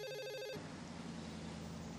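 A telephone rings in a 1994 horror film, Wes Craven's New Nightmare: a steady electronic tone for about half a second, then a blurred, noisy continuation under a low hum.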